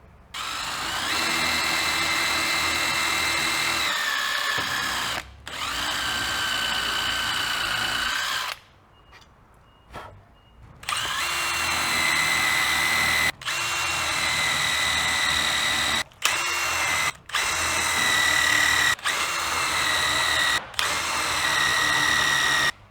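A power drill with a step drill bit whines steadily in long bursts while boring into plywood, stopping briefly between runs, with one longer pause midway; loud and close, no talking.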